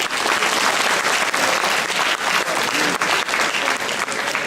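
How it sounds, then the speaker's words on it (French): Steady audience applause fills the room at a seniors' lunch in Ceyzériat, dense and continuous throughout, with no talk over it. "Merci aussi à M. Bornéa, on l'applaudit aussi."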